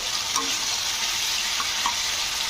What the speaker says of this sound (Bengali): লবণটা দিয়ে একটু নেড়ে চড়ে দিতে হবে